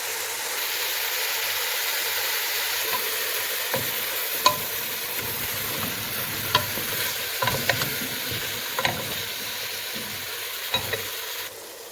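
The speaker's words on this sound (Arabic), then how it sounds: "غادي نزيد واحد الراس ديال البصله مخلط وغادي نخليه يتشفر" Chopped onion and parsley sizzle steadily in oil in a pot, a continuous close frying hiss broken every second or two by soft stirring scrapes and clicks.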